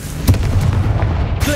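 Confringo fire-blast spell explosions in Hogwarts Legacy: a loud, close boom opens, followed by a low rumbling tail and another thud near the end.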